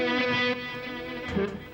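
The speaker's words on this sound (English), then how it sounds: "it's delaying, but as it's delaying, the delay is kind of it's reversed" An electric guitar played through a pedal with a reversed delay effect, notes swelling and smearing backward into sustained, layered echoes.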